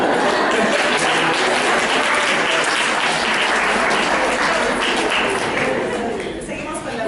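Sustained audience applause fills a hall at a literary and cultural talk, dense and steady clapping from many hands for several seconds before easing slightly at the end.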